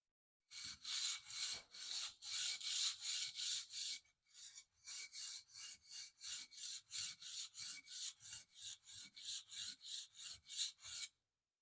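Rhythmic rasping strokes of a file drawing a burr on the blade of a Stanley No. 80 cabinet scraper, about two dozen close, steady strokes with a short pause midway and no talk.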